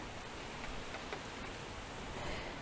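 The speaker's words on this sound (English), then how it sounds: "So now it's starting to rain" Rain falling in a garden makes a constant, even hiss of drops on surfaces, with a few louder patters mixed in and no talk.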